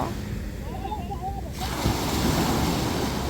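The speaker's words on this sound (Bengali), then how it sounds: "আর ঢেউয়ের যে সাউন্ডগুলো এত ভালো লাগতেছিল" Sea waves break on a beach in Dubai: a quieter windy stretch gives way to a loud, broad rush of surf close by that continues to the end.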